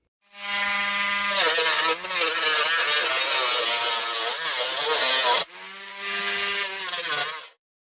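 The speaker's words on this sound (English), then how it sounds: "as I'm using the Dremel to, as I said, thin out these ribs here" A Dremel rotary tool thins the ribs of a damaged guitar, giving a loud, close, high whining grind that holds steady for several seconds, dips in pitch, cuts off briefly near the end and then resumes before stopping.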